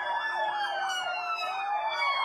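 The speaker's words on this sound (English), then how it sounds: "makeshift ambulances line up like they're on a starting grid" Wailing sirens from makeshift ambulances lined up on the road leading north out of Khan Sheikhoun in Syria, after a chemical attack, with overlapping rising and falling tones, loud and continuous.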